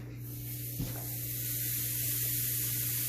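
A salted and peppered boneless ribeye steak hits a hot oiled pan with a soft thump, then a loud, steady sizzle and hiss fills the rest of the moment.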